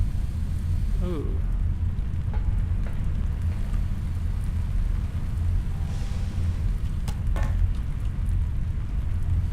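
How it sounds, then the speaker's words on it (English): Rain falls in a video game sensory room, a steady, dense hiss of even noise that carries on throughout, with a few faint chirps and blips on top. "That's nice. It's raining."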